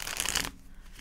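A quick riffle of tarot cards being shuffled, a short papery flutter that stops abruptly into near silence.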